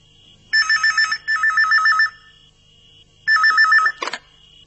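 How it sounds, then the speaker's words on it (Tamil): A telephone rings in three electronic trilling bursts, the first two close together and the third after a pause, clear and close in an otherwise quiet room, ending with a short click. "பெல் அடிக்குது, எடுத்தா கட் ஆயிடுது"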